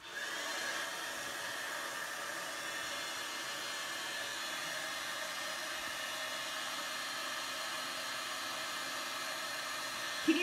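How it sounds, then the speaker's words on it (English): A heat tool blows hot air in a steady, even whooshing hiss like a hair dryer, moderately loud and close, running unbroken for about ten seconds before a brief bump at the end. "Here comes our heat tool."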